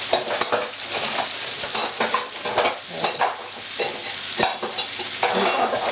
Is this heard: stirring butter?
yes